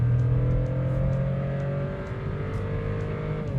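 A Volkswagen Nivus accelerating as the gas pedal is pressed, its engine giving a steady, close droning hum whose pitch climbs gradually, with faint ticks over the drone.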